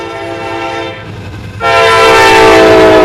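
A CN freight train (Q142) with a C40-8 locomotive roars by at Ladysmith, dipping briefly before swelling again with a bright whining, screeching tone and a heavy rumble underneath.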